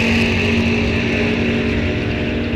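Drag race cars launch together at Rock Falls Raceway during the NHRA Wisconsin State Championships, a loud sustained engine roar with a steady droning pitch, heard close and alone without talk.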